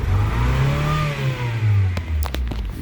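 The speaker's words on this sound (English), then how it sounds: "Let's rev it." A car with its check engine light on is revved at a car auction, the engine rising and falling in a close, loud rev with a slight uneven hesitation, followed by a few clicks and clatters.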